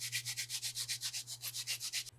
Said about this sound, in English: So we'll go ahead and jump straight into the sanding pad.